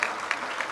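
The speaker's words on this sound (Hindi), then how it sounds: "इनके लिए भरपूर तालियाँ" Audience at an Urdu literary conference breaking into brief, lively applause, a dense burst of clapping from a crowd, heard close and loud.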